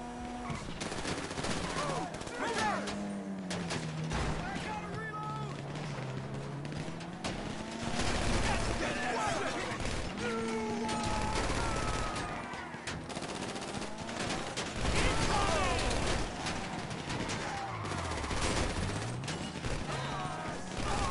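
Gunfire and other action sounds from GTA Online run steadily throughout, mixed with music or game audio in a busy, continuous clash.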